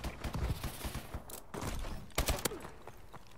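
SM1 fire in Call of Duty Advanced Warfare comes as quick, fairly faint bursts of shots amid busy gameplay noise and scattered impacts.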